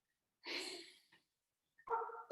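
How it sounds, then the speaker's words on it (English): A dog barks twice at a home, two short sharp barks separated by a brief pause, fairly close and alone without talk. "Sorry, my dogs are barking."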